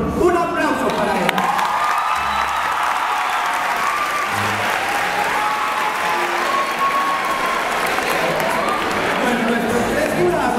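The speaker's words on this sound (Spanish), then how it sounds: "Un aplauso para él." Sustained applause from a theater audience at a televised casting event in Cali, steady and full throughout with scattered cheers and a voice over the top.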